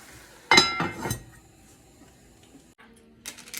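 A metal lid is set onto a pot of browned kibbi meat and nut filling, giving a couple of close, bright clinks and clatters, then a quieter knock near the end.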